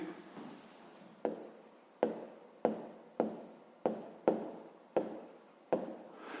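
Pen writing out a fifth-grade math solution on paper, a run of quick scratchy strokes in short bursts with brief pauses between them, close and fairly quiet.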